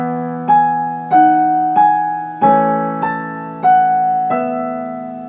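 A piano plays one measure of Rachmaninov's Piano Concerto No. 2, Adagio Sostenuto, as a series of about seven evenly spaced, sustained chords, each struck and left ringing to decay, close and alone.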